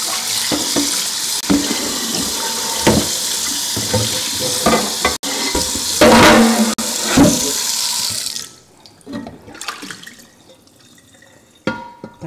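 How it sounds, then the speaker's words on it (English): Hot tap water runs steadily into a kitchen sink for about eight seconds, loud and continuous, then cuts off, followed by a few quieter splashes and clinks as a cast iron pan is wiped with a dishcloth. "I'm gonna run my water until it is hot."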